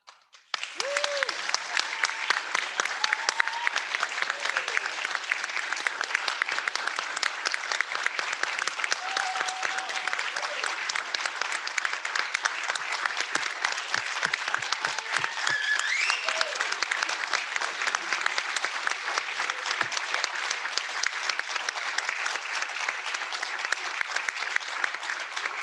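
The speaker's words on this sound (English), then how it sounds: "I think we should give a round of applause to Rachel, Sarah, and Aaron" A student senate meeting breaks into sustained applause, with dense steady clapping from a room of people lasting nearly half a minute. A few voices cheer faintly within it.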